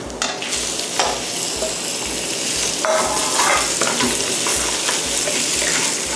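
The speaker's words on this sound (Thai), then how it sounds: "ผัดให้ส่วนผสมนะคะ เริ่มเข้ากัน" Garlic, dried shrimp, dried lily flowers and mushrooms stir-fried in a wok over high heat, a loud continuous sizzle with rhythmic scraping and tossing strokes of the spatula throughout.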